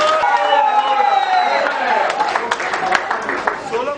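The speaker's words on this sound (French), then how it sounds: "On applaudit encore très fort pour eux." Wedding guests applaud and cheer the newlywed couple, a loud dense burst of crowd clapping and cheering that tapers off, mixed with lively voices and festive background sound.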